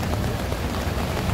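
Steady rain pours over the open-air Jalan Wong Ah Fook street market in Johor Bahru, a dense, loud, even hiss of drops drumming on tents and surfaces with no voices.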